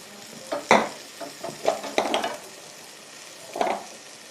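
Spices (ginger, turmeric and chili powder) being stirred into fried brinjal in a cooking pan for vangi bath, with several quiet, irregular spatula scrapes and clinks against the pan and a faint sizzle between them.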